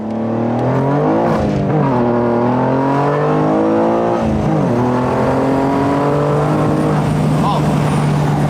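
A BMW G87 M2 fitted with an Fi full exhaust system revs repeatedly, its engine note climbing and dropping in loud, close sweeps with a raspy, layered exhaust tone throughout.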